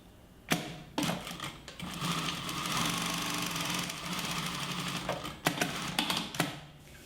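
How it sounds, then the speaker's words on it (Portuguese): Sewing machine running in a steady mechanical whir while stitching the small pocket of a multipurpose wallet, with sharp clicks at the start and at the end of the run and no voices. "Então vou costurar o primeiro bolsinho."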